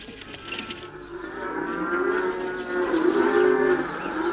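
A mixed herd of cattle and donkeys is driven through the rough streets of an old Turkish village near Eber Lake, with loud overlapping mooing and braying that builds over several seconds.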